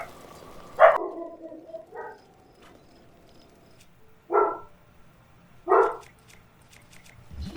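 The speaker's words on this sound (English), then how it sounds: "don't mind the puppy barking" A puppy barks in short separate yips, one near the start and two more spaced apart later, with quiet gaps between and no talking over them.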